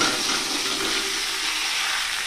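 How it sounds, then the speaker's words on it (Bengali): Pumpkin pieces frying in hot oil with potatoes and whole dried chillies, a steady close hiss and crackle of sizzling that holds evenly throughout with no talk. "মিষ্টি কুমড়োটা দিয়ে নেড়ে চেড়ে মিষ্টি কুমড়োটা একটু ভেজে নিব"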